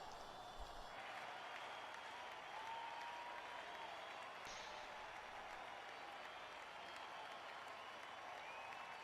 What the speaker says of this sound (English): That is too much applause for a small auditorium and the 5 members that are here